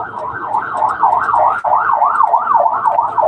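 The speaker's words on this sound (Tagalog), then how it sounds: "May wangwang." An emergency vehicle siren wails in a loud, rising-and-falling cycle, close by on a highway, with faint road noise underneath.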